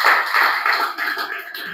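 Audience applause during a business association presentation of new member brands, a steady patter of clapping that tapers off toward the end.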